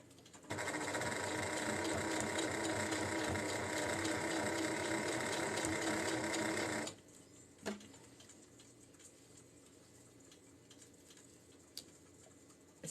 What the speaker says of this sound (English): stitch up that edge